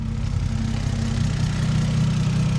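A Toyota GS300 with a 2JZ-GE engine built with turbo internals idles in a smooth, steady low rumble, close and even throughout with no revving.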